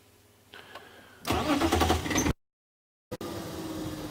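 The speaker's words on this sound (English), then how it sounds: "You notice they reacted when I started the car" A car engine starts during an early-morning African wildlife safari drive near lions: a brief starter whir, then the engine catches and runs loudly for about a second before a sudden cut to silence and a steady idle.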